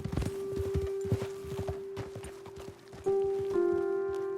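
Horse hooves clip-clop at a steady walking rhythm in Red Dead Redemption 2, with several horses moving together over a constant tonal game hum before the steps fade and music chords enter.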